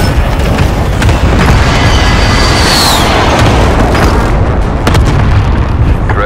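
A loud, sustained explosive rumble fills the scene as a precision airstrike hits in Call of Duty: Modern Warfare, with a heavy continuous blast roar and a brief whistling streak midway.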